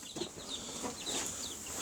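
Chickens move about a yard, giving faint, scattered clucks over a steady background hiss, with no one speaking.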